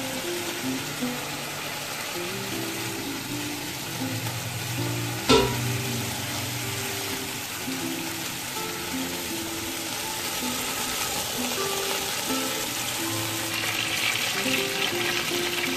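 Chicken pieces fry in hot oil in a pan, a continuous, fairly loud sizzle running throughout with a single sharp clatter partway through, no voices over it.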